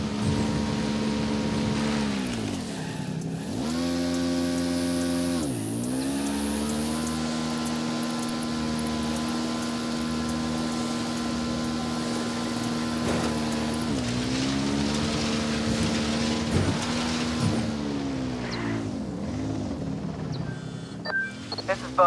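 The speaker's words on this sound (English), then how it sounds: "I'm riding the motorcycle." A motorcycle engine in the video game Ghost Recon drones steadily, its pitch rising and falling as it revs and shifts, with game-style background noise throughout.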